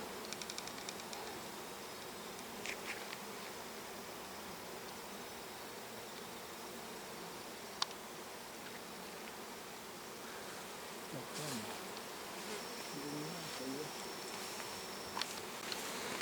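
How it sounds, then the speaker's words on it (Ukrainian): A swarm of honey bees settles at an apiary in late August, making a dense, continuous buzzing hum close by, with occasional individual bees passing nearer and louder. "Тепер рій сідає ще й на ріг."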